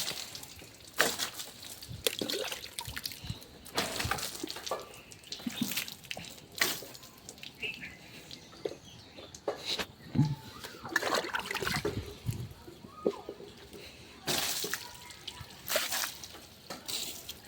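Water splashed and poured for washing, irregular splashes and drips coming in bursts at moderate distance, with short quiet gaps in between.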